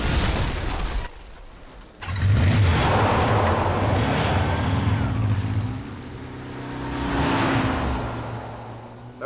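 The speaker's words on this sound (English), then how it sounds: "That was a completely necessary wheelie." In the video game Alpha Protocol, a vehicle's engine revs hard during a wheelie. A loud, deep roar surges after a brief lull, holds, then swells again near the end.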